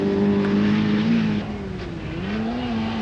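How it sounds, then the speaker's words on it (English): A 2-litre single overhead camshaft Opel Manta rally car runs hard at speed on a 1985 rally stage, its engine droning loud and steady, the pitch dipping midway before climbing again. "Second overall, and maintaining a remarkable pace for the 2-litre single overhead camshaft Manta, Gwyneth Evans is proving his worth here."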